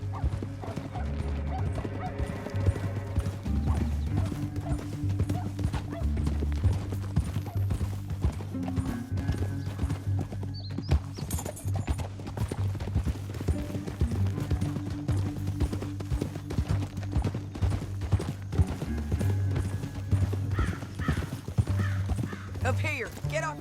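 Horse hooves in Red Dead Redemption 2 clip-clop steadily at a brisk pace beneath a musical score, with a horse whinnying and occasional voices in the background.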